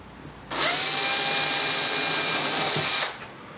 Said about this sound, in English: just put it in the end of your drill